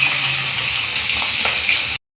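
Pieces of fish sizzle in hot oil in a pan, a dense close crackle that holds steady before cutting out abruptly near the end.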